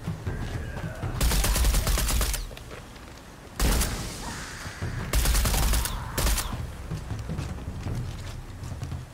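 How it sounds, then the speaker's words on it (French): Gunfire in the video game Shadow of the Tomb Raider, with loud sustained bursts of automatic fire in several separate volleys and ambient noise between them, close and dominant. "Y'a un mec à ma droite là qui me tire dessus."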